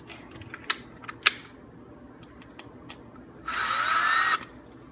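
A power drill bores a pilot hole for a doll stand, a single bright whirring burst of about a second following scattered close taps and clicks of handling, with no speech.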